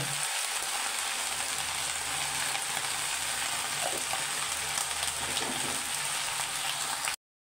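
Red amaranth greens fry in a pan with a continuous, close sizzle and crackle, a brief lower clatter near the start, then the sound cuts off abruptly at the end; no one speaks.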